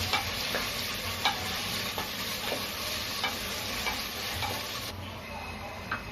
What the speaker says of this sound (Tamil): வெங்காயம் கொஞ்சம் நல்லா வதங்குற வரைக்கும் வதக்குவோம்.